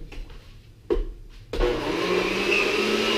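Kitchen blender whirring loudly during a smoothie-making game, starting with two brief bursts before settling into a steady, continuous motor roar close by.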